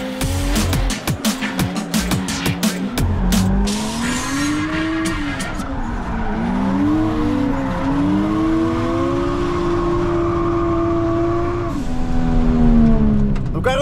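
A drift race car on track revs hard with rapid rattling bursts, then its engine whines and swoops up and down while tires squeal through long slides, loud and continuous.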